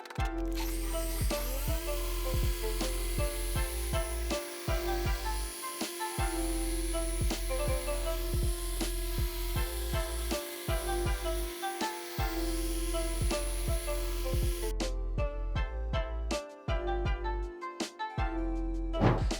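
A car polishing machine works a pad across painted bodywork with Zvizzer One compound, a continuous loud whirring drone with steady pitch, cutting out briefly near the end before starting again.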